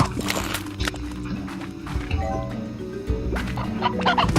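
Chickens cluck and squawk in short bursts over a busy background of other game-like sounds, in the video game Slime Rancher.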